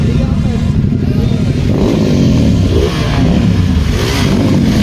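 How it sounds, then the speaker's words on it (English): BMW K1600 GTL motorcycle at a bike week event, loud close engine rumble with revving swells, mixed with crowd chatter and other engines nearby. "Check this mean machine, BMW K1600 GTL."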